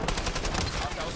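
Rapid gunfire in a shooting video game, a dense burst of repeated loud shots with an automatic-weapon rhythm filling the whole short moment.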